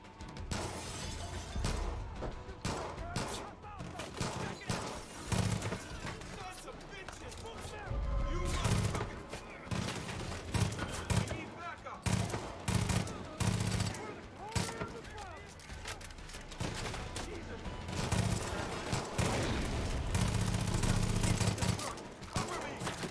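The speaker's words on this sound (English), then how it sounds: "Dang, this gun shoots fast." Rapid gunfire in the Far Cry 5 video game comes in fast, crackling bursts with short gaps between them, loud and close, with shattering impacts and a voice talking at times.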